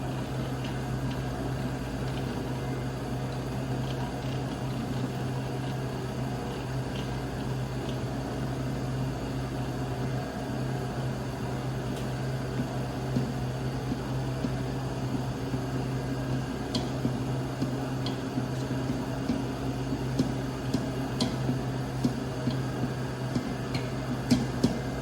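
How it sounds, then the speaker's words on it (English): Stand mixer with a dough hook kneading straight bread dough into a shaggy mass: a steady, droning motor hum running throughout, with faint irregular ticks and knocks from the bowl that grow slightly more frequent toward the end. "So I'll start the mixer."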